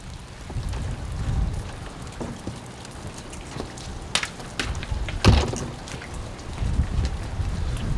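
Rain falling outdoors at a rural property, a constant soft patter with scattered louder drops and low rumbling underneath, moderately loud and without talking.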